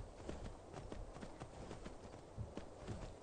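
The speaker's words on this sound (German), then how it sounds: "Pferd, ich reite dich jetzt mal wieder" Faint rhythmic clip-clop of horse hooves walking at an even pace in The Elder Scrolls V: Skyrim, with a low background rumble throughout.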